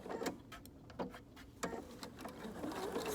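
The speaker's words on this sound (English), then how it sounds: "I'm going to sew across it." A sewing machine stitches back across the top of a pajama pant pocket in short, faint bursts of quick mechanical whirring.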